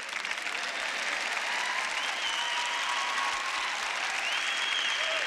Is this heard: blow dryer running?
no